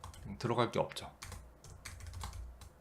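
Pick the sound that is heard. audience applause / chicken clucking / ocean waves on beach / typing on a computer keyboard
typing on a computer keyboard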